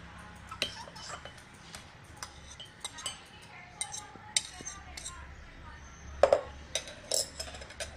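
A spoon clinks lightly against a mug while sugar is added for a mug cake: sparse, faint metallic taps scattered across a quiet room, with a slightly sharper pair near the end.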